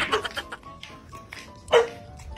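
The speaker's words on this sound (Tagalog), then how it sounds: "May aso." A dog barks twice, brief sharp yips amid a noisy household scene with people talking nearby.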